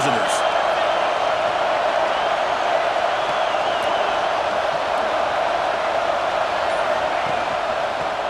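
A stadium crowd in the EA Sports College Football 26 video game roars steadily throughout, a dense, even wall of noise with indistinct voices mixed in.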